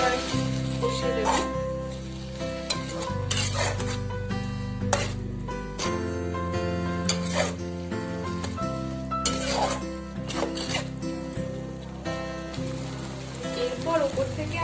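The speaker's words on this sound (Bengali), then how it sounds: "জল দিয়ে বেগুনগুলোকে ভালো করে আর কষিয়ে দেবো।" Eggplant stir-fried with about half a cup of water in a pan gives a steady wet sizzle and bubbling, with spoon scrapes and clinks breaking through now and then close by.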